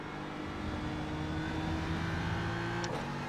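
A BMW GT3 race car in iRacing rolls through a warm-up lap at Watkins Glen, its engine a steady, loud drone with sustained harmonic tones held throughout, no voices.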